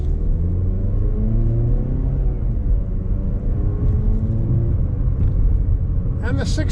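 A 2025 Mazda CX-50 engine pulls through the gears in manual sport mode, a steady interior drone whose pitch climbs and drops with each shift, a faint click near the end.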